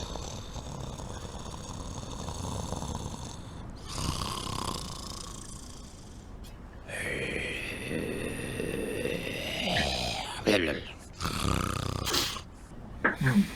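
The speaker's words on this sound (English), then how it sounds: "Suddenly, you hear something snoring further down the cave," Loud, drawn-out snoring from a creature somewhere deeper in a cave, rumbling breaths rising and falling in a slow, uneven rhythm, with a few snorting catches near the end.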